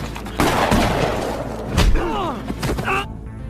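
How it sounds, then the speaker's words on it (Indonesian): Gunfire in a film shootout between a gang and an elite agent, a burst of loud overlapping shots and heavy thuds with ricochet-like whines, ending abruptly in near silence. "Jason dan anak buahnya muncul, dan terlibat aksi baku tembak."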